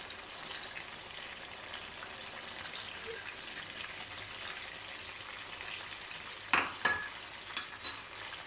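Chicken qorma curry in a pan over a medium flame makes a soft continuous sizzle as it is stirred. Near the end a few sharp scrapes and clinks of the spoon come through.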